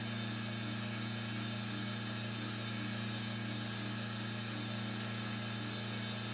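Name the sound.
machine tool cutting metal crosshead guide rail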